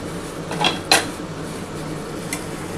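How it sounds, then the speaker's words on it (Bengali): A lid lifted off a cooking pan holding shol fish chilli with onion and capsicum, a short metallic clank and rattle near the start followed by a faint clink later over a low background hum, close and alone. "আর ঢাকাটা খুলে দেখি আমার কতটা হলো।"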